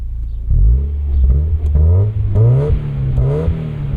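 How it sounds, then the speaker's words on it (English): A 1992 Mazda MX-5 Miata's engine revs several times in quick succession, its exhaust note climbing and dropping sharply, close and loud. "That exhaust sounds pretty good."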